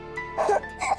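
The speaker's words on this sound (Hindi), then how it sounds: "आपको तो खांसी हो रही है।" A child coughs or clears the throat in a few short, close bursts over a steady background hum.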